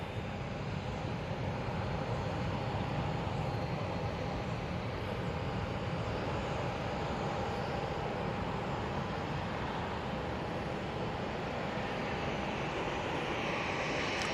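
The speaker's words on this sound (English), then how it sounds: "Star Alliance livery on that Lufthansa now just arriving" Lufthansa Airbus A319 in Star Alliance livery arriving at Manchester Airport from Frankfurt, a faint, distant, steady engine rumble with a thin whine, continuous throughout.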